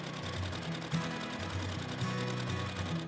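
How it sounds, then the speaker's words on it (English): A sewing machine stitching a quarter-inch seam on an hourglass quilt block, running steadily up close with a fast, even mechanical whir and rhythmic needle clatter, with no talking. "we're going to sew along both sides of our line with a 1/4 inch seam allowance"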